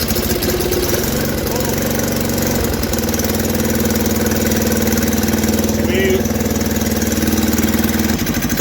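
A snowblower engine runs steadily as it warms up after a few weeks unused, a loud close droning putter with a constant low hum, briefly shifting in tone near the end.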